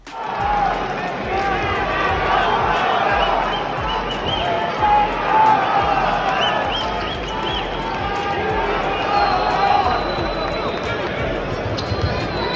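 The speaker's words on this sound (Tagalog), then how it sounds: "sinigaw na ng mga fans ang pangalan ni Soto, sabi "We want Soto"" Basketball fans in an arena chant for Kai Sotto, with a broad, sustained crowd roar carrying a rising and falling vocal chant under general hubbub throughout.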